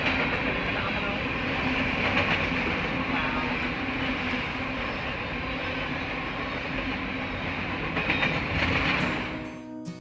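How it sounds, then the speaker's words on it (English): A long freight train led by four locomotives rolls past close by, a loud, steady rumble with wheel clatter and squeal that holds for the full ten seconds before easing off at the end. "got to see the 4 engines and the whole train pass by"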